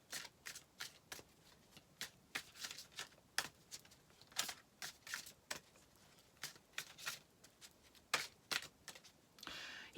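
Metatron oracle cards being shuffled by hand, a quiet run of soft riffling flicks and slaps in uneven rhythm over about ten seconds, close and faint with no talking.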